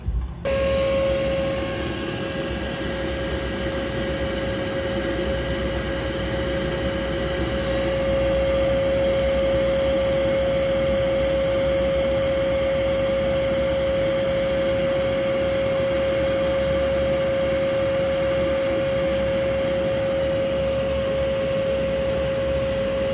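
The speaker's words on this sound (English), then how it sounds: "So let's go get a vacuum, get it set up." A vacuum sucking yellow jackets out of a condo wall drones steadily and loudly throughout, a constant whine with a strong steady tone and no talking.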